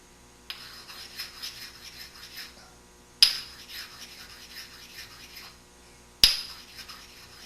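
A Ruger 10/22 trigger part clamped in a vise is worked with a medium India stone: three bursts of close, gritty rubbing strokes, each opening with a sharp scrape, separated by short pauses.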